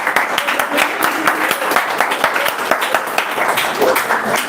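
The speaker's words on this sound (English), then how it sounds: "Can you have a big round of applause for them?" Audience applause for a student group after a final presentation showdown, a dense and fairly loud wash of clapping that stays steady for several seconds with crowd noise mixed in.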